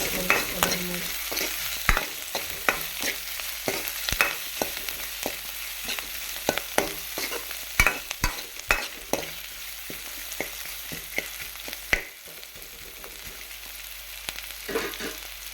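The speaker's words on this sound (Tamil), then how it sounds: "இப்போ இது வெங்காயம் வதங்கிடுச்சு" Onions sautéing in a pan for a ridge gourd kootu, with a soft continuous sizzle broken by frequent scraping clicks of a spoon stirring against the pan, close and fairly quiet.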